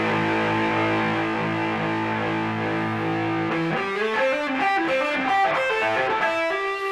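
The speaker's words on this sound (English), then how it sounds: "so this has got like super high gain now" An electric guitar through super high gain distortion, first a held, sustained chord, then a run of quick distorted single notes and chord stabs, loud and up close with no voices.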